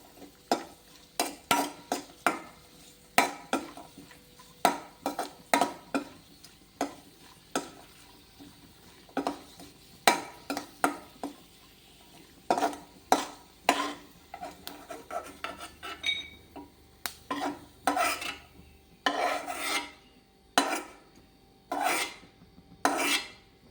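A ladle stirs and scrapes ingredients roasting in a pan for rava laddu, giving a steady series of rasping strokes about once a second under a faint sizzle, with no voices.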